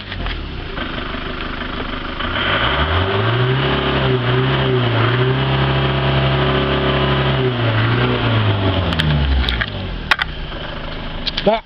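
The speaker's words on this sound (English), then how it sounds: "I'm going to start the engine up and let you hear it run" Ford Transit motorhome engine starting and running at a steady idle, with a close, loud low hum that stays even for several seconds, brief clicks near the end.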